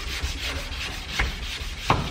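Hand sanding of car paint with sandpaper, close scratchy rubbing strokes in an irregular rhythm, a few sharper scrapes standing out, with no talking.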